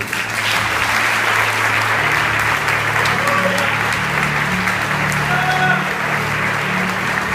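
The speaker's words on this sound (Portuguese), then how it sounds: "Uma salva de palmas para Jesus." Sustained applause from a church congregation filling the space, dense and steady throughout with faint voices mixed in.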